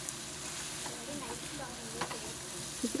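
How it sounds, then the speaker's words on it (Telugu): Chicken ghee roast sizzles in a pan just after a spoonful of ghee goes in, a steady, fairly soft frying hiss with occasional stirring scrapes and a few brief clinks near the end. "ఇప్పుడు ఫైనల్గా మరొక స్పూను గీ కూడా వేసుకుందాము."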